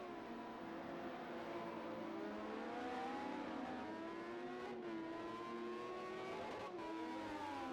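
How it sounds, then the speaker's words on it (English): LMP1 prototype race cars in a racing video game at the Algarve circuit howl at high revs, several engines overlapping with rising and falling pitch through upshifts, continuous and fairly faint. "Man, these LMP1s sound good here at Algarve."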